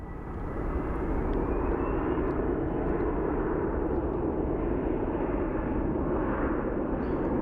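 A CRJ regional jet takes off at Phoenix Sky Harbor, its engines a loud, steady broadband roar that holds unbroken from start to finish, with no voices over it.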